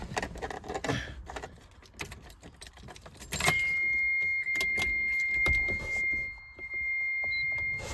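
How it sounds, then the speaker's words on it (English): Key turning in the ignition of a 1993 Dodge Stealth RT, with keys jingling and clicking before a steady electronic chime starts and continues as a sustained tone. "if I turn the key on"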